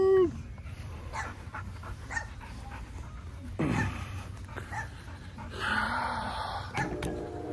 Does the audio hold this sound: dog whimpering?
yes